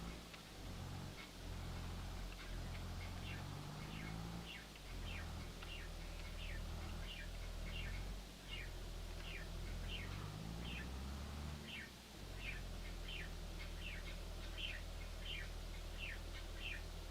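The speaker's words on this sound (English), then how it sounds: "as the birds get louder and louder." Birds chirp outdoors in a steady series of short, bright calls repeating across the whole stretch, moderately distant over a constant low engine drone.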